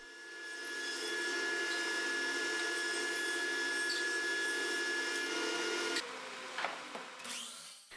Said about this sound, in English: then I head over to the planer to bring the material down to final thickness